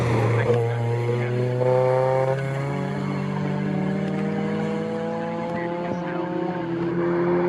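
BMW race car competing at Snetterton circuit, its engine note climbing and falling through gear changes as it passes fairly close, with a commentator talking over the sound.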